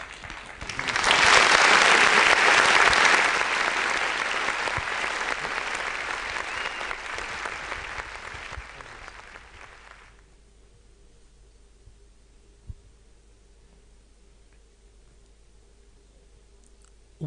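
An audience at a youth leadership debate final breaks into loud sustained applause that gradually fades over about ten seconds, leaving a quiet room with a few faint clicks.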